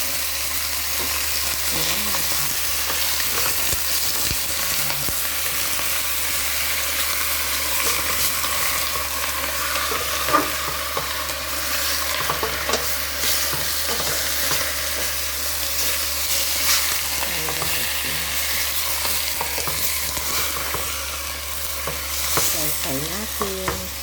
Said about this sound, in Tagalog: Fry po natin.